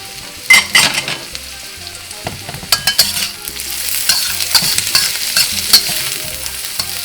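Onions and half a yellow chili pepper fry in a pan, a loud continuous sizzle broken by sharp spatula scrapes and clatters throughout, with no talking.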